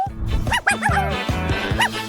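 A small dog barks in a quick series of sharp, close yips, with a brief whimpering whine between some barks and a short pause before a final yip.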